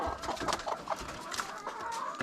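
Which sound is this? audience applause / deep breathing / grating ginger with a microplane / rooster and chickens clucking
rooster and chickens clucking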